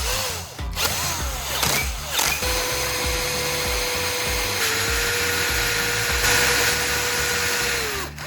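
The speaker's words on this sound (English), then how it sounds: "Now, I move on to drilling into the base and the outer shell of the bulb." Power drill boring into the metal base and outer shell of a light bulb, a steady whining motor with short bursts at the start, then one sustained close run.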